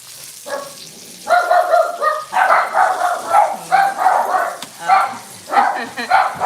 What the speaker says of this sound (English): There's our dogs alerting everybody in the neighborhood.